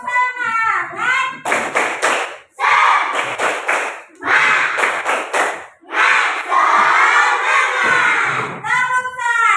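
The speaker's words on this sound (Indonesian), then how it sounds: "Satu kali lagi. Tepuk semangat." Fifth-grade pupils in a classroom chant a clapping cheer in unison, loud shouted phrases alternating with sharp rhythmic claps and thuds, repeated in several close bursts.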